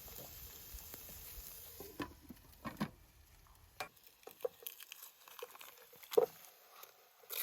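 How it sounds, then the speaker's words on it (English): Onion and burgers cooking outdoors at a truck campsite, a faint sizzle with scattered ticks, pops and scraping clatters that thin out to quiet crackles. "we're gonna cook the onion and the burgers out here"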